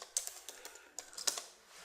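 Quiet, close keystrokes on a computer keyboard tap out an SQL query in short irregular bursts, a handful of soft clicks with a few sharper presses.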